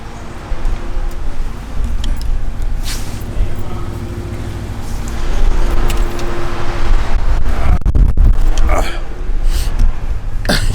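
A straight-piped, stage 2 tuned BMW 650i with the N63Tu twin-turbo V8 rumbles steadily up close, its loudness swelling midway with turbo whistle on top, while people talk over it.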